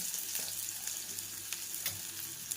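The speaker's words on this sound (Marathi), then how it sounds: "त्यानंतर आपण घालूया कांदा मस्तपैकी आपलं तेल असं तापलं होतं" Chopped onion frying in hot oil with mustard and cumin seeds for a quick vermicelli dish, a dense, continuous sizzle heard up close, with light crackles and a few soft stirring taps.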